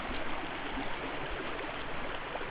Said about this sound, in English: we're now walking alongside the creek